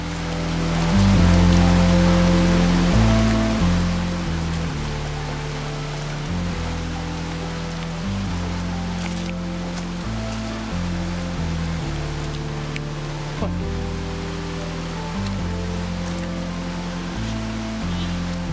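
At a hiking-trail stream crossing, water rushes in a constant broad hiss, with a tonal musical backdrop running underneath.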